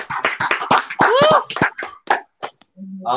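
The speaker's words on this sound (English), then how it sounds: "Give them a round of applause." A short burst of applause from a small group, a quick run of sharp claps with a whoop in the middle, then fading out.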